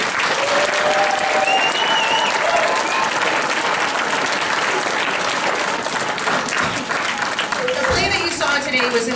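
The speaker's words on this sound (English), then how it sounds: "So again, another round of applause for the 7th grade" A crowd gives loud, dense, sustained applause after a 7th grade school play, and voices and cheers can be heard through the clapping.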